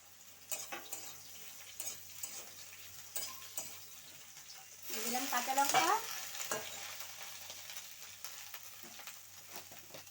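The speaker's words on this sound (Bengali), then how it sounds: "এবার আমি এখানে শাপলাটা ভেজে নেব রসুন সাথে করে দিয়ে দিলাম" Water lily stems with garlic hit a hot pan and start frying, a loud sizzle swelling for about a second before settling into a steady, softer crackle with faint utensil ticks, no talking.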